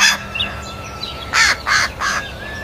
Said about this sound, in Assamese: বগলীয়ে নিজৰ পোৱালি নোহোৱা দুখত কান্দিবলৈ ধৰে